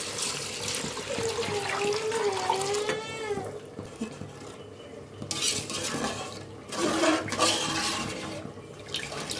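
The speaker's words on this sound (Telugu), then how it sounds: "మేము ఎన్నైతే గ్లాసెస్ తీసుకున్నామో అంతకి డబల్ వాటర్ యాడ్ చేసుకుంటున్నాం." Water is poured into a cooking pot for rice, a gurgling splash with rising pitch, mixed with clinks of pots and utensils at moderate volume.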